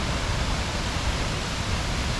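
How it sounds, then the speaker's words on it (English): Steady broadband rush of water pouring down at Niludhan Falls, a continuous close roar with no breaks and no voices over it. "we finally made it to this beautiful waterfall"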